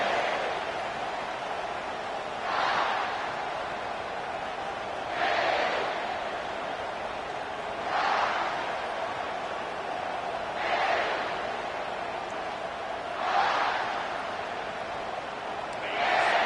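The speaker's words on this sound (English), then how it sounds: "It's early, but this crowd is fired up. Listen to this noise here." A football stadium crowd at a Georgia game roars steadily, with the noise swelling in regular waves every few seconds and no talk over it.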